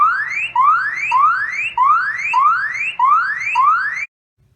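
A Litmor battery-powered security camera's siren sounds loud and close: seven repeating rising electronic sweeps, each about half a second, in a steady cycle, then abrupt silence.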